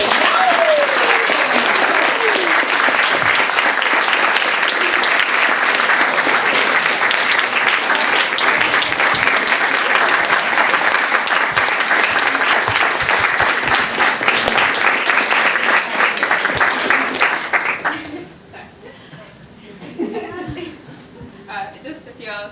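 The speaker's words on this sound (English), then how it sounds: "And if everyone could give her a round of applause" Sustained, loud applause from a crowd honoring Faye Sherlaw at a medical student housing event, a thick continuous wash of clapping that drops off abruptly toward the end, leaving scattered murmurs.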